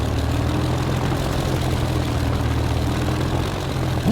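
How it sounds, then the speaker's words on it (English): Propeller planes in a video game set in Shanghai and Nanking drone loudly and steadily, with a deep, continuous engine hum and no voices over it. "we got 4 planes in the air."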